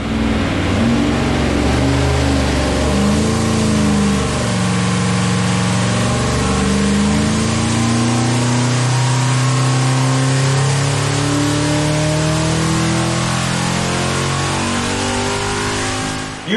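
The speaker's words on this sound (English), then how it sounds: "let's take a look at one more dyno pull" A powerful Chevy 350 V8 with Vortec heads revs hard on a dyno and steadily climbs through its range, loud and close, holding a sustained roar for many seconds before cutting off.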